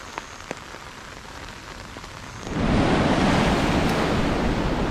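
Heavy rain pours down near Panama City, starting as scattered drops and then surging into a loud, dense, steady roar of rainfall.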